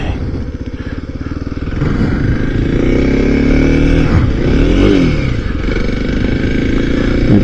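A motorcycle runs on a chilly morning ride, its engine a steady loud rumble that swells and revs through the middle, close by and continuous, with no talk over it.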